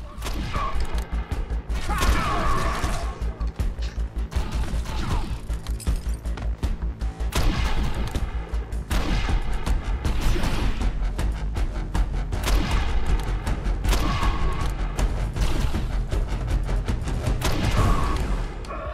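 Gunfire in the sci-fi shooter Defiance, a dense, loud run of rapid shots and thudding impacts that continues almost without pause.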